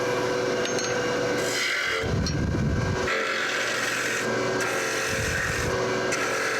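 Wood spinning on a lathe while a smaller skew chisel cuts detail, a steady motor hum with rough scraping bursts as the tool bites the workpiece, close and continuous with no speech.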